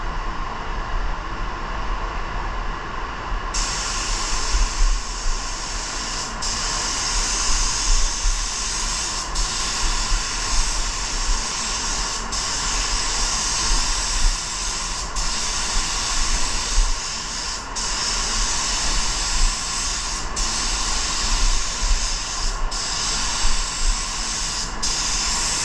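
A paint spray gun applying Stellar Silver metallic candy paint, a loud, steady compressed-air hiss running continuously, broken by short periodic pauses as the trigger is released and pulled again.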